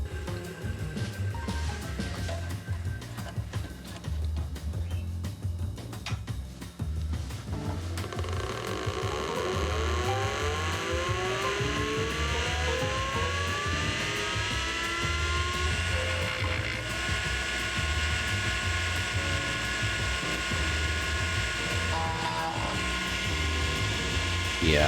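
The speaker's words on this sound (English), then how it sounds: "That grinding noise is not normal." A stuck floppy drive stepper motor in a Computerland BC286 computer grinds while it initializes, giving a loud, continuous mechanical whine with rising and falling buzzing tones, close up and steady for about twenty-five seconds.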